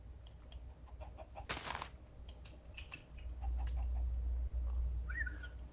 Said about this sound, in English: Oh man, this chicken's on a mission.